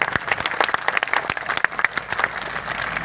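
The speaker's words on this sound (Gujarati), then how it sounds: "બે હાથ ઊંચા કરીને તાળીઓ પડે મને ખબર પડે" Loud applause from a large seated crowd at a Kshatriya Thakor community gathering in Banaskantha, dense overlapping claps sustained throughout without talk.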